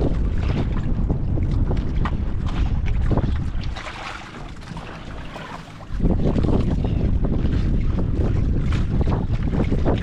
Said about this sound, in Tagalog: Napalakas na ang hangin